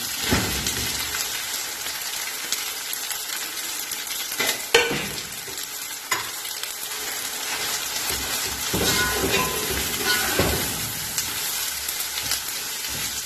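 Chicken pieces frying in a hot pan: steady sizzling, a dense continuous hiss with occasional clinks and stirring scrapes, close and fairly loud, no talking.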